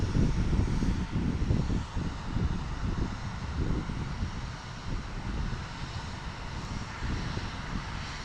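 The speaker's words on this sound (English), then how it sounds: "Next up, our Allegiant A319 Las Vegas Golden Knights livery." An Allegiant Airbus A319 airliner at Portland airport roars with a loud, steady jet engine rumble and some wind noise, with no voices heard.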